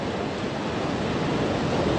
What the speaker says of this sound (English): The winds are ferocious right now, gusting above 120 miles per hour